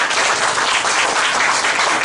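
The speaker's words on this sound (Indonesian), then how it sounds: "Berikan aplaus buat kita semua" An audience at a business talk breaks into steady, dense applause, with many hands clapping evenly throughout.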